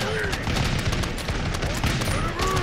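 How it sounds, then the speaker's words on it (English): A continuous musket volley from Renaissance troops in the TABS battle game, dense crackling gunfire with overlapping shots at steady loudness, distant battlefield cries faintly mixed in. "Another good volley."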